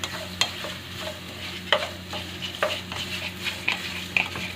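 A mixture is stirred in a pan, with a spoon repeatedly scraping and clinking against the metal over a low steady sizzle, close and fairly quiet, with no talking.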